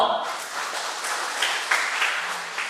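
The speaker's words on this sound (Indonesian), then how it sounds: "Tepuk tangan dong." A short burst of audience applause at an indoor talk for teacher bloggers, clapping that swells and holds close to the microphone.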